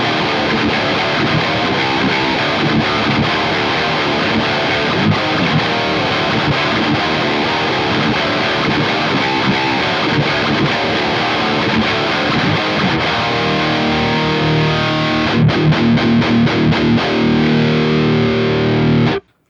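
Electric guitar played through a Revv G20 amp on its super overdrive channel gives a loud, dense, nasty distortion. Sustained chords and riffs run steadily before cutting off abruptly at the end.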